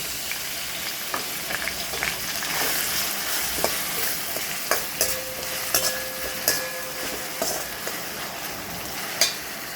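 Onions fry in a pan with a steady crackling sizzle throughout, broken by scattered sharp pops and clinks of stirring, close and moderately loud with no talking.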